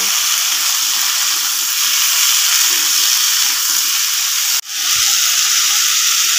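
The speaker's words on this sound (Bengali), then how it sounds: "এতে এবার আলুগুলো ভালো করে ভেজে নেব।" Potatoes frying in hot oil with panch phoron and a bay leaf, a steady broad sizzle and hiss that runs throughout, dipping briefly for a moment before resuming at full strength.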